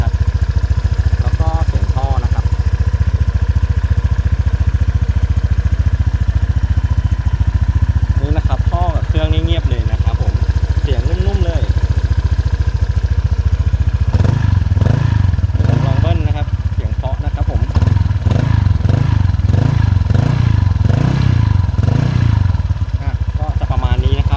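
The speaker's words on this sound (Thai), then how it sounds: "อันนี้คือเสียงเครื่องที่รอบเบานะ" A Honda PCX 150 scooter engine idles steadily at low revs nearby, a constant putter, with someone talking over it for much of the time.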